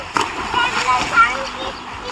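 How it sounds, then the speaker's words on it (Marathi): Water splashes as people swim in a farm well, a soft continuous spray and slosh heard close up, with voices talking over it. "हे वरती पाणी उडवा रे श्रेयांशकडे आमच्या."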